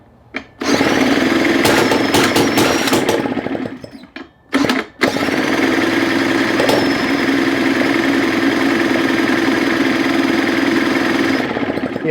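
Small two-stroke engine on a Craftsman Japanese backpack leaf blower, idling steadily and loudly close by after a brief start, cutting out for a moment, then restarting and running evenly.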